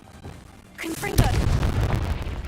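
A Confringo blasting curse in a Harry Potter video game goes off with a sudden sharp explosive burst, then a loud rumbling, crackling roar that carries on, with brief spell-casting tones just before it.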